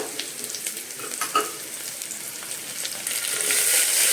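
Bottle gourd and carrot pieces frying with onions in a pan, a close and continuous sizzle with stirring scrapes, building to a louder hiss toward the end, with no one talking.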